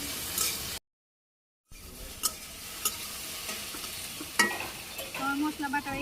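Chicken meat fries in a pan with cinnamon, cumin and garam masala in a village kitchen, a soft sizzle with scattered clinks of stirring. The sound cuts out briefly near the start.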